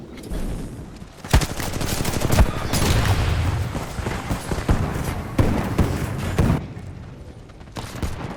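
Gunfire in the video game Titanfall 2, dense bursts of rapid automatic shots and sharp cracks that continue with brief pauses over several seconds, fairly loud.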